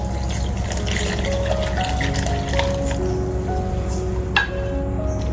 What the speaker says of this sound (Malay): Masukkan air pandan tadi.